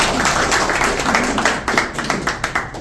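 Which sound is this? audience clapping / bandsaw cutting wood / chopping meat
audience clapping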